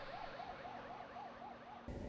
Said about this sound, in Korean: 응급 조치 후 무사히 병원으로 떠나는 구급차.